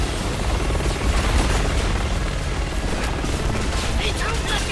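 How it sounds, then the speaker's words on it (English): A helicopter in the video game Resident Evil 6 whirs in a loud, continuous rotor drone, mixed with dense in-game combat noise and scattered gunfire-like bursts. "Forget the chopper for now."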